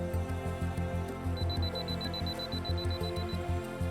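A camera fitted with a Sigma 60-600mm lens and Canon 2x Extender Mk3, set on a 2-second self-timer, gives a steady run of rapid, high, evenly spaced beeps over low rhythmic background noise before the shutter releases.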